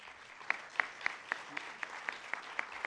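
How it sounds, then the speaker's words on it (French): Scattered audience clapping at the opening of a Smart City forum in Marseille, 2017: sparse, individual claps spaced about every quarter second, fairly faint and without talk over them. "que je voudrais qu'on applaudisse."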